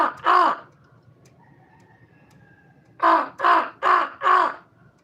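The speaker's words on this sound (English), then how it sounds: "I heard one of my crow buddies out here." A crow caws outdoors, one loud harsh call followed after a pause by a rapid run of four more close, evenly spaced caws, with a faint steady tone in between.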